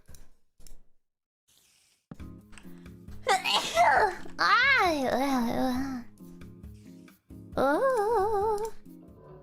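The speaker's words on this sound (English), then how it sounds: "Oh, I'm gonna sneeze." A young woman's sneezes come in quick bursts between her own voice and giggling sounds, close and fairly loud, with several short pitched outbursts and pauses between them.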